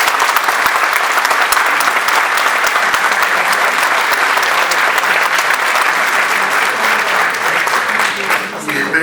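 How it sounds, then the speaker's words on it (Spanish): A large audience at a business chamber event in Lima gives sustained applause. The clapping is loud, dense and steady for about nine seconds and begins to thin at the very end. "Mechi Arauz, un aplauso para ella."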